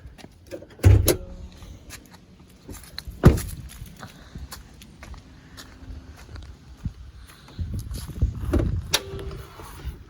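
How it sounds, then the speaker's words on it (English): The hood latch of a 2019 Nissan Frontier SV Premium pickup is worked open, giving a couple of loud metallic clunks and clicks amid quieter rattling and shuffling nearby, without talk. "Let me get the latch undone here."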